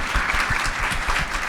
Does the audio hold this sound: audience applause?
yes